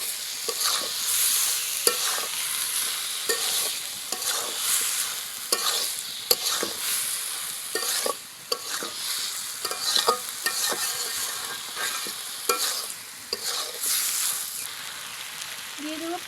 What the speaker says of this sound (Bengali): দিয়ে দিব ভেজে রাখা আলুগুলো।